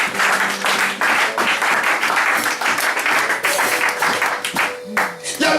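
A church congregation at an evangelical service applauds and cheers, dense sustained clapping filling the room with voices mixed in, loud and continuous from start to finish.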